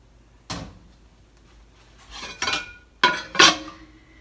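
A colander draped with sterilized butter muslin is moved about in a kitchen, giving a few separate clanks and knocks against the counter, close and fairly crisp, with quiet gaps between them.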